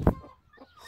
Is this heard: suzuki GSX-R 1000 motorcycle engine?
no